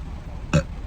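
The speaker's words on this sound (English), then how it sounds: "excuse me, I got a burp." A single short burp from a man, close and fairly loud, rising briefly out of a quiet room background.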